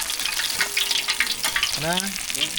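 Fish pieces fry in hot oil for a crispy fish fry, giving a continuous close sizzle with light crackle and a brief tonal squeak partway through.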